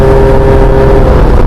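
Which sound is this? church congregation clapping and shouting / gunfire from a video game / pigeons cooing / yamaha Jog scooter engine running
yamaha Jog scooter engine running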